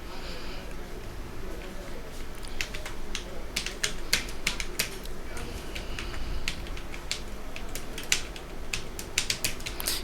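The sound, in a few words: typing text into Notepad on a computer keyboard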